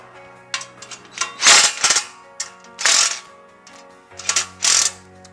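A 7/16 socket wrench tightening nuts on a seat plate mounted to a pole, giving loud bursts of ratcheting clicks in several separate runs with short pauses between them.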